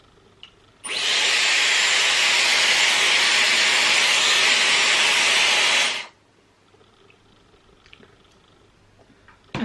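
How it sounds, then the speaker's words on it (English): A Dyson Airwrap round brush blowing while styling hair, a loud steady airflow whoosh that switches on abruptly, runs for about five seconds, then cuts off to near quiet. "we'll see now what we can do with this side using the Dyson Airwrap round brush"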